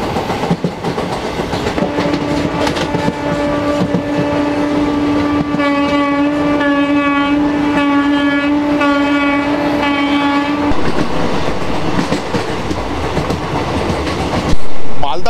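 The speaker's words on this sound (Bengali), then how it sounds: "আমাদের ট্রেন এখনো মালদা টাউন স্টেশনে দাঁড়িয়ে আছে।" A passenger train near Malda Town station rumbles loudly and steadily throughout, with a long sustained horn blast in the middle and faint clicking of wheels on rails.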